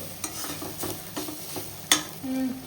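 Food sizzles steadily in a hot pan while a utensil scrapes and stirs it in repeated strokes, with one sharp metallic clink near the end, close and fairly loud.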